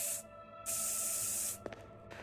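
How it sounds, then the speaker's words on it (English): Two long hissing bursts of spray, separated by a brief pause, with a few small clicks near the end, from spraying cubes in the video game Goobstation. "some cubes you can spray to get dummies for your spells"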